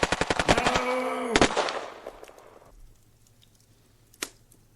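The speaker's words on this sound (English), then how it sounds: "the screams and gunfire seems to extend for an eternity" Machine gun fire in a war-themed audio drama, a rapid burst of sharp close shots for about a second and a half that tails into echo, followed by quiet and one more sharp crack.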